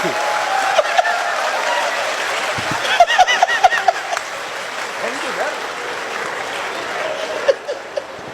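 A crowd at a Haryanvi comedy show claps in sustained applause, loud and dense, with a few sharper claps standing out and a little laughter mixed in.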